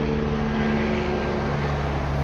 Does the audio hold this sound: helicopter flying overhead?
yes